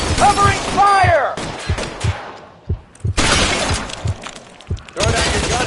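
Shootout gunfire in L.A. Noire, sharp loud pistol and rifle cracks in irregular bursts with glass shattering, mixed with shouted voices between volleys.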